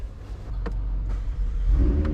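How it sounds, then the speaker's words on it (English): A McLaren 750S supercar engine fires up close by, a deep low rumble with a brief rising rev, heard alone without talk. "Can I start the car?"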